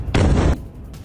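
A missile strike explosion near an Israeli site sounds as one loud, close, broadband roar about half a second long, cutting off sharply, with lower rumble and faint noise before and after. No one speaks.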